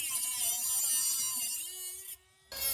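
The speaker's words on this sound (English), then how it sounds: "At this time, the angle grinder has been powered on and can run." A battery-powered angle grinder runs off a converter with a high whining buzz. It holds steady, then its pitch shifts and drops briefly before the motor picks back up.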